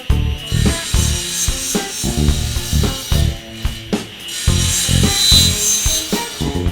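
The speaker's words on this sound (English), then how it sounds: "I'm just going to go ahead and lightly face joint one last time" A jointer rasps and whirs as a cherry wood board is face-jointed over its cutter in repeated passes, loud and close, with short pauses between strokes.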